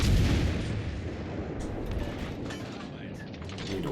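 Naval artillery fire rumbles in the World of Warships Legends video game, a dense, loud, sustained roar of guns and mechanical noise with no distinct separate shots.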